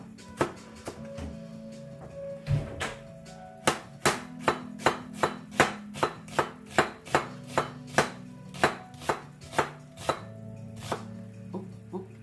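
Onions being chopped on a cutting board: a long run of sharp, evenly spaced knife knocks, close and loud, over a quiet room hum with no talking.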